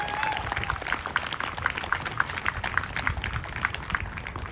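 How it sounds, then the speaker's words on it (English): A crowd at an outdoor May Day rally gives a steady round of applause, dense clapping that holds for several seconds with voices mixed in. "Can we get another round of applause?"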